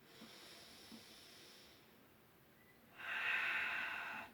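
Breathing during a held yoga pose on the floor, two short soft nasal sniffs, a quiet pause, then a long loud hissing exhale through the mouth, close up and alone.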